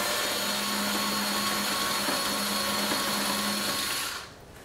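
Power tool running steadily under a C8 Corvette while taking out T20 Torx screws, a close, continuous whine with a low hum that holds for about four seconds, then cuts off abruptly.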